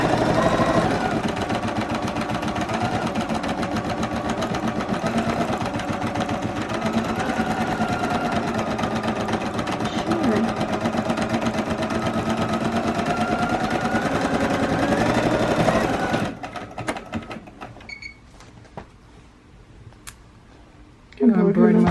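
A Bernina 180 embroidery machine stitching a motif, a steady loud mechanical whir running continuously before stopping, followed by quieter handling sounds and a brief voice at the end.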